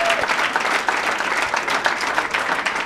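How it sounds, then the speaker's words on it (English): Comedy club audience clapping throughout, a dense sustained burst of applause from a crowd at a live stand-up show. "Give them a round of applause"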